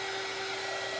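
A household clothes dryer runs steadily and loudly up close, a constant broadband whir with a fixed hum, unbroken for the whole moment and free of voices.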